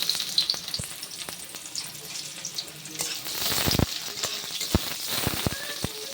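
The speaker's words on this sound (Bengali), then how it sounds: "তাতে দিয়ে দিচ্ছি তেজপাতা, 3 টুকরো তেজপাতা, আর দিয়ে দিচ্ছি একটু কুচনো পেঁয়াজ।" Chopped onion and three bay leaves frying in hot mustard oil, a close, crackling sizzle with sharp pops and spits that grow busier partway through.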